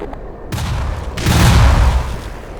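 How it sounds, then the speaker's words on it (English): In the video game Black Mesa, a rolled grenade bounces off a mine and sets off more mines, giving two loud, close explosive bursts, the second one heavier and rumbling on for about a second. "It got bounced back and blew up more mines."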